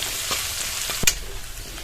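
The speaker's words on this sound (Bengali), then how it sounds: "আলুটাও ভাজা হয়ে যাবে সেই সঙ্গে পেঁয়াজ রসুন আর কাঁচা লঙ্কাটা কিন্তু আবার এর সঙ্গে আরও ভাজা হয়ে যাবে" Potatoes frying with onion, garlic and green chili in a pan produce a dense, even sizzle, broken by a few brief stirring scrapes and one sharper clatter.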